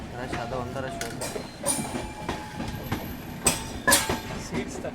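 Heard from inside a carriage, the Hubballi–Mysuru Hampi Express passenger train runs on the rails with a steady rumble and rhythmic clacks, plus a few louder rattling bumps. Voices sound faintly in the background.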